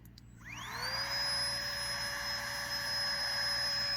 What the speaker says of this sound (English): This pump's brilliant, I love it.